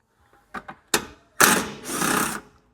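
A power tool whirs in short bursts and then a longer run while backing 10mm screws out of a plastic underbody tray on a 2019-2025 Toyota Supra mk5, loud and close with a few clicks before it.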